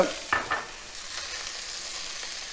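Onion, ginger and garlic sauté in a pan with mint and coriander for a mutton kheema biryani, a soft steady sizzle opening with a few quick stirring scrapes.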